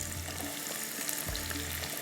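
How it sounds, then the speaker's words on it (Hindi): Garam masala frying in hot oil, a steady close sizzle and crackle running continuously on its own with no voices. "यहाँ पर जो मैंने डाला है गरम मसाला, ये फ्राई हो रहा है"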